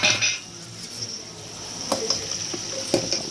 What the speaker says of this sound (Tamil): நல்லா கிண்டி விட்டுக்கோங்க வெங்காயம் வதங்குற அளவுக்கு